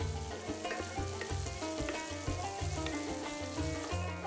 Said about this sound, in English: Then add 2 crushed garlic cloves and the roasted peppers. Fry for 5 to 7 minutes.